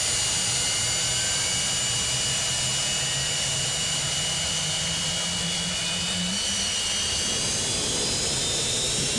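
The twin jet engines of a Phenom 100 in the Prepar3d flight simulator roar in a loud, steady whining rumble with high turbine tones, continuous and close throughout, with no voices.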